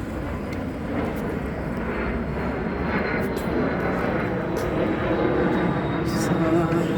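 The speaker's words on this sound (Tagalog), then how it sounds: "ito ng mga aeroplano guys. Ingay, diba?" Loud, continuous engine roar of airplanes passing overhead near Burlingame, a broad steady rumble that swells slightly, with faint voices underneath.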